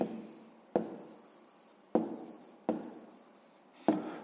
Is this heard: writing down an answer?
yes